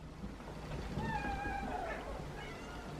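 Several cats meow at feeding time before a breakfast of homemade raw food, with one clear drawn-out meow standing out over a busy background of rustling and faint voices.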